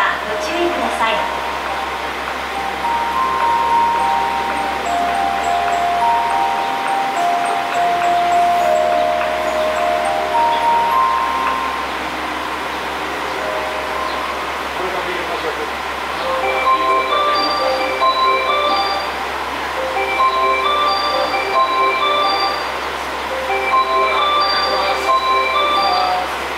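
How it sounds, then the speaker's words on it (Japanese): A station platform in Japan with a low train rumble as a train pulls in, while a recorded Japanese announcement chime and voice play over the hum. "2番乗り場に列車が参ります。"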